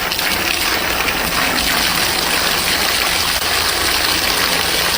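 Steady stream of water gushes over an egg hanging on a string, a continuous loud broadband rush with no breaks for the full five seconds.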